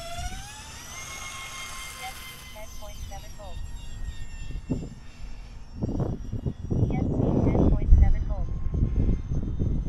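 A UMX A-10 Thunderbolt II RC model jet at full throttle, its electric ducted fan whining and rising in pitch, while engine rumble and handling noise build up close by.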